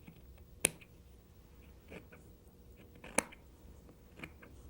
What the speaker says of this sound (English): So I'll take my scissors and I will trim it down.